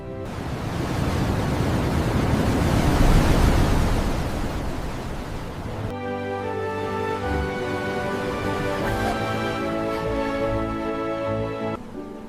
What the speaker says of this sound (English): The waves sound so strong here.